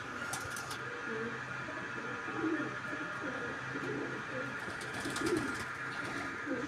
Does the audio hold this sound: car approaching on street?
no